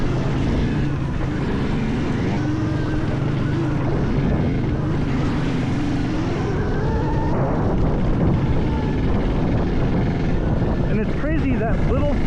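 An electric Honda TRX90 ATV rides off-road at Outlaw Extreme in Ohio, giving a steady, loud rush of wind and drivetrain noise with a rising motor whine near the end and muffled voices underneath.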